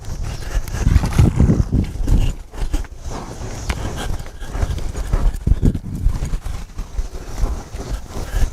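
A cutting horse works cattle on a ranch, its hooves thudding and scrambling in quick irregular bursts of clip-clop up close, with animal snorts and stirring mixed in and no talking.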